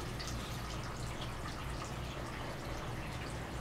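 Nutrient water pours steadily into a hydroponics container in a direct top feed system, a continuous dense splashing hiss with no pauses, close and even in level.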